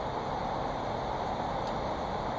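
A river roars in the background along a hiking trail in hilly country, a steady broadband rush that is faint and distant throughout.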